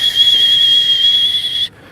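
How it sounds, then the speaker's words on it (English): A steady, high-pitched human whistle holds one clear note for about a second and a half, then stops abruptly, leaving near silence. "So like if I whistle"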